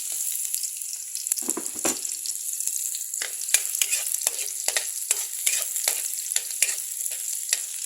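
Onion and garlic sizzle in a hot pan of oil as adobong itlog with potatoes is cooked, a steady bright crackle broken by frequent utensil scrapes and clicks of stirring, close and alone with no talk.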